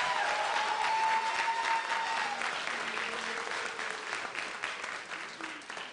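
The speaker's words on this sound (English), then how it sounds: "can we give Pastor Porter and Metropolitan another big round of applause?" A school kick-off celebration audience gives a big round of applause for a pastor and Metropolitan: dense, loud clapping that starts strong and slowly tapers over several seconds, with a voice briefly audible beneath it.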